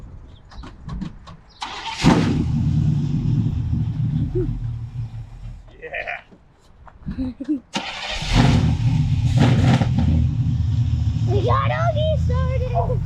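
A 1976 Chevy Malibu Classic engine cranks and catches with a loud roar, then drops to a rumbling idle. It dips briefly before starting again and revving strongly, with a few words spoken nearby.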